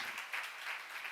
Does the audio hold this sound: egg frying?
no